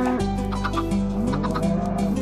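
Minecraft chickens cluck steadily over a droning game music bed, their short repeated calls bunched near the start and middle and continuing throughout, moderately loud with no talk.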